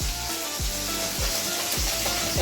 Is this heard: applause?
no